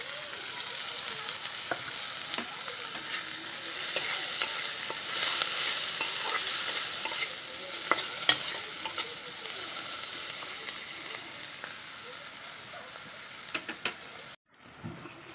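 Chopped onions fry in oil for an aloo chingri dorma, giving a dense, continuous close sizzle with occasional stirring clicks and scrapes, no voices, cutting off abruptly near the end.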